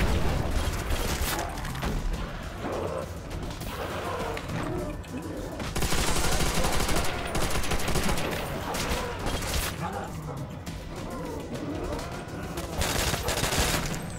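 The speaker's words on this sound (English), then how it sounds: "I have a double barrel shotgun." Repeated gunfire from a double-barrel shotgun and other weapons in the zombie survival game Nacht der Untoten, loud and continuous throughout, with players talking over the shots.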